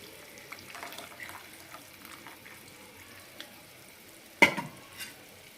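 Soaked gram flour goes into a hot tempering for a puri curry, making a soft continuous sizzle with gentle stirring and a sharper splash-like burst as it hits the pan.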